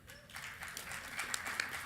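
A conference audience applauds, a steady mid-level patter of clapping from a crowd in a hall, continuous for a couple of seconds.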